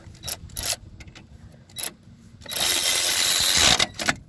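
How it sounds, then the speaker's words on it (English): Cordless Ryobi battery-powered ratchet tightening a strut bolt on a Subaru Forester, with short mechanical clicks and bursts early on, then a sustained loud whirring grind for about a second before stopping. "It's got some torque, I'll tell you, for a little battery-powered ratchet."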